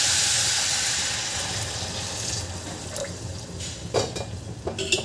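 Plain water poured into a pot of pigeon pea rice, a loud continuous splashing pour that fades, followed by a few softer splashes and stirring clinks near the end.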